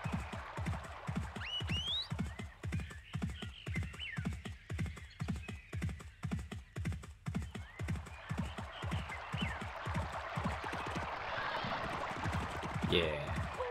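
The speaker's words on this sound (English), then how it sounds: "Horse doesn't like walking in water." Steady clip-clop of a horse wading through water in the video game Barbie Race and Ride, a regular rhythm of splashing steps with a whinny and bright game chimes over a watery background.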